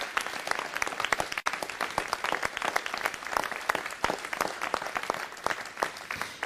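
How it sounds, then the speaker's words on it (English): At a city council meeting, a crowd gives sustained applause for the standing Heroes United Project members, many hands clapping densely and evenly, fairly close, with no talk over it. "Let's give them a round of applause as they stand."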